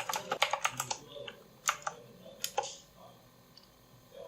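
Computer keyboard keys clatter as commands are typed into a Linux terminal, a quick burst of close clicks followed by a few scattered keystrokes, fairly quiet with no talking.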